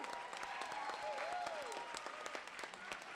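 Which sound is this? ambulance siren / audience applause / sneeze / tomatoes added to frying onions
audience applause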